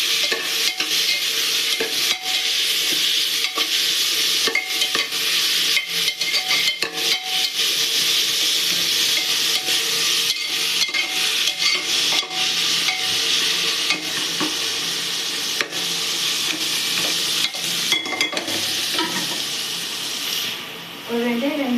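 Mint and coriander leaves being sautéed in a pan, with a steady close sizzle and repeated scraping strokes of stirring running continuously throughout.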